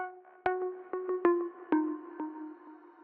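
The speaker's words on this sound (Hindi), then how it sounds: "मैंने ब्लीस का शिमर प्लगइन यहाँ पे यूज किया हुआ है। तो शिमर जितने लोगों को नहीं पता काइंड ऑफ रिवर्ब ही होता है बट काफी ज्यादा स्पेसी साउंड करता है" A soloed mix runs through a Bliss shimmer reverb plugin: sparse, quiet plucked notes each bloom into long, airy, ringing tails that overlap in a spacious wash. No one speaks.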